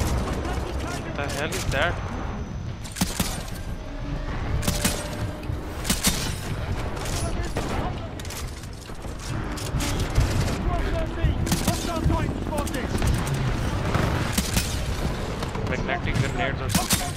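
Gunfire in the video game Titanfall 2, with rapid automatic bursts and sharp shots repeating densely throughout, mixed with booms and a player talking over the action.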